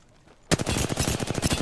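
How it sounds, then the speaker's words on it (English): Sustained automatic gunfire in the video game Apex Legends, a loud rapid burst of shots that starts abruptly after a quiet moment and keeps going to the end. "I didn't want to shoot, sorry."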